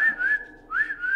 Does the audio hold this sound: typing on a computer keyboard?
no